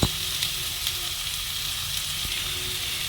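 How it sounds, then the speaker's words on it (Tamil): Chopped onions sizzle in hot oil in a kadai, a steady soft frying hiss with a few faint clicks of stirring and no talking. "ஒரு கடாயில் எண்ணெய் வச்சு காஞ்ச பிறகு நம்ம அரிஞ்சு வச்சுருக்கிற வெங்காயம் போட்டுக்கணும்."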